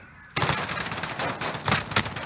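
Rapid automatic gunfire from a 2v2 gunfight shooter video game bursts in loudly after a brief quiet start and keeps up in dense, repeated volleys to the end.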